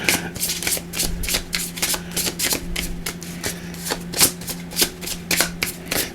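Tarot cards are shuffled by hand in a quick, steady run of crisp riffling bursts, close and clear, with a low hum underneath.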